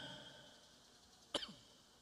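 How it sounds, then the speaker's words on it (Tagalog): A single short cough, close and sharp, in an otherwise quiet room after a faint fading hum. "Umubo lang ako."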